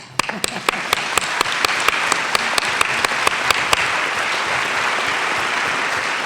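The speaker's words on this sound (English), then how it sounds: "Would you all please clap for me?" A conference audience at a closing session breaks into applause, opening with sharp, evenly spaced claps that quickly swell into a dense, sustained ovation filling the room.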